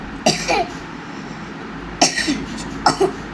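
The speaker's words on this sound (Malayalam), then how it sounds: "ചുമ" Three separate bursts of coughing, each a quick pair of harsh coughs, close and loud, spaced apart with quiet in between, during copper crafting.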